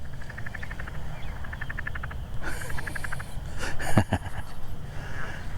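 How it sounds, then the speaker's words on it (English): Frogs chatter outdoors by a spring pond, giving short bursts of rapid, evenly pulsed trills that repeat several times at moderate distance over a steady outdoor background, with a few louder rustling noises nearby. "You hear that frog chatter out there"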